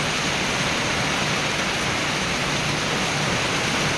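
Steady, dense rain falling outdoors in cool weather, a loud continuous hiss with no breaks and no voices.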